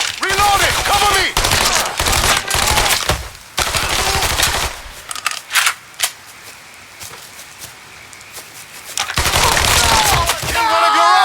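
Loud bursts of rapid automatic gunfire and single shots from a Mafia 3 firefight, broken by short pauses and a quieter stretch in the middle before heavy shooting resumes. Shouting voices mix in with the battle.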